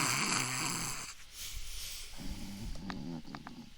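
A person imitates snoring with rough, buzzing inhalations and snorts in short repeated bursts, fairly close, with brief gaps between.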